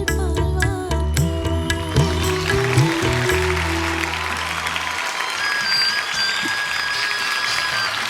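A studio audience on Super Singer Junior breaks into loud, sustained applause for a singer as the closing musical notes fade, and the clapping carries on after the music stops.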